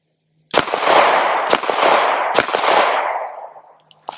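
A Bear Creek Arsenal BC-101 Grissly rifle loaded from a Magpul magazine fires three loud, sharp shots about a second apart, each with a ringing echo that fades, followed by a faint click.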